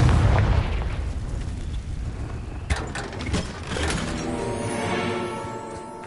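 A Confringo spell blast in Hogwarts Legacy, a heavy rumbling boom that fades, then a few sharp cracks and a lingering tonal ring, loud and close.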